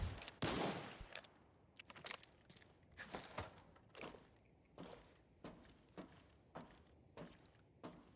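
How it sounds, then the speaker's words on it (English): Gunshots in a video game, a loud close burst at the start followed by irregular, spaced single shots and thuds that come and go at moderate distance. "We hear someone shooting right here."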